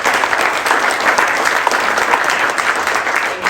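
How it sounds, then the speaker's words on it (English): A crowd applauds at an outdoor groundbreaking ceremony for an affordable housing development, with dense, steady clapping that stays loud and even from start to finish. "So they deserve another big round of applause."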